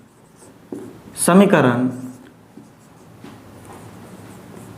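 A marker or chalk scratching out an equation on a board in a math lesson, one brisk stroke burst in the middle, with a voice speaking around it.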